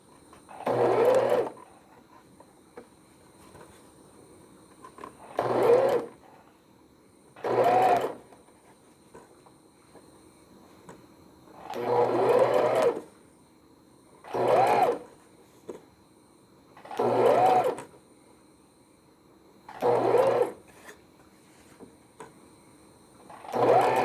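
Sewing machine stitching fabric for a newborn baby vest, running in short bursts of loud whirring about every two to three seconds, quiet between runs.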